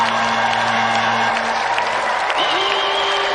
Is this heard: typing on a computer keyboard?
no